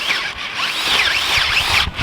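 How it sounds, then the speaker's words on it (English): A power drill bores planting holes in tight garden soil, a steady loud whine with rising and falling pitch as the bit works, heard up close with no talking. "just use a drill"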